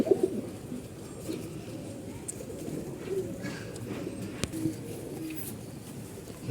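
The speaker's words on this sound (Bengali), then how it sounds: "একটা কবুতর দেখতে পারতেছেন" Pet pigeons coo steadily and low at close range, with soft rustles and a few sharp clicks on top, and a brief knock near the end.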